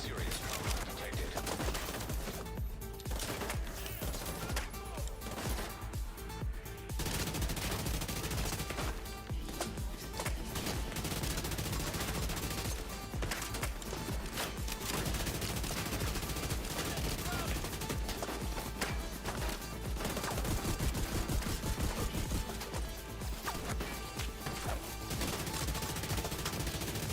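Turret gunfire in The Division 2 video game rattles in dense, loud bursts of rapid shots that continue almost without pause, with someone talking over the shooting.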